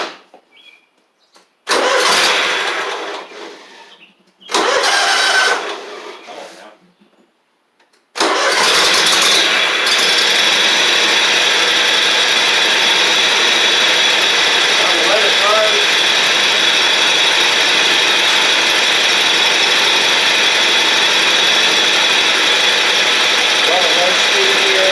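A John Deere Z950A zero turn mower engine cranks in a few short bursts, then catches and settles into a steady, loud, close idle at low speed that runs on without a break.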